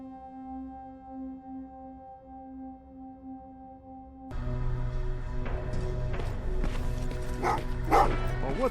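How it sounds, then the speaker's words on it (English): Several dogs in Terminator: Resistance bark and yip repeatedly in quick, uneven bursts, close and fairly loud, starting after a quiet hum and continuing to the end. "What's with the dogs?"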